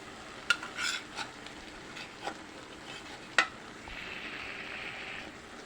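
Soft, steady sizzling of fish frying in a pan with potatoes, with a few sharp metal clinks of a utensil stirring, no voices.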